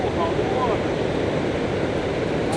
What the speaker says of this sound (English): Let's go right on the lip where the water's falling over.